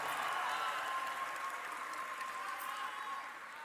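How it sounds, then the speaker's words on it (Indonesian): Steady applause from a rally crowd honoring reform fighters at a volunteers' gathering at Tennis Indoor Senayan, marking 25 years of Indonesian reform; a dense, even wash of clapping that fades slightly near the end. "Tepuk tangan untuk para pejuang reformasi kita."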